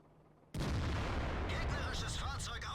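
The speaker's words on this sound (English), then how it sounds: "He puts in a fantastic shot right into the front track of the T-54" A tank cannon fires in World of Tanks, hitting a Soviet T-54's front track: one sudden, loud boom that stays as a sustained roar, with faint game sounds chirping over the tail.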